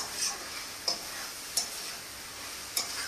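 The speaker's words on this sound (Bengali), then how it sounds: "তো চিকেনটাকে তেলের মধ্যে আরেকটু ভালো করে ভেজে নেব আমি" Chicken pieces fry in oil in a pan with a faint, steady hiss, broken by a few sharp clicks of a utensil against the pan at irregular moments.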